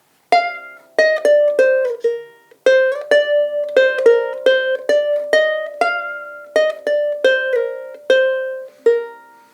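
A guitar plays the verse of an old tune, covering its first four measures as a melody of single plucked notes that ring and decay in a steady, unhurried rhythm, with no voices.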